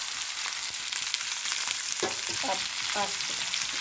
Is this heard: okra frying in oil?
yes